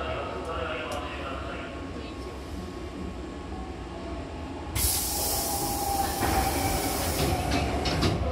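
A Hankyu Takarazuka Line express train runs between Toyonaka and Okamachi. There is a steady rumbling roll of the railcars with faint wheel clacks, and a loud brighter hiss sets in midway as the train moves, with a voice speaking over it.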